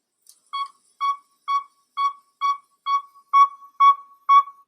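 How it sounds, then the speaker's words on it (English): A recorded northern saw-whet owl call: a steady series of about nine evenly spaced high whistled toots, growing slightly louder toward the end, clear and alone with no talking. "The northern saw-whet sounds kind of like this."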